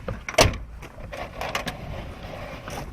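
A vehicle door shuts with one firm thump early on, in a security-training setting, followed by faint interior rustle and mechanical noise.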